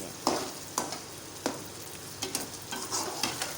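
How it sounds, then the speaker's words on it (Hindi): Okra (bhindi) frying lightly in a pan for bhindi gosht, a steady sizzle broken by about eight sharp stirring scrapes at a roughly even pace, close and without speech. "भिंडी का कलर हमें ज़्यादा चेंज नहीं करना है, हल्का सा फ्राई करना है।"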